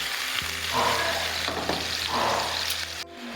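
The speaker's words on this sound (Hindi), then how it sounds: "ये गोला कबाब जो हैं इनको मैंने हल्की आंच पे मैं फ्राई कर रही हूँ" Gola kababs shallow frying in a pan over low heat, a constant close hiss and sizzle with a low steady hum underneath, cutting off abruptly at the end.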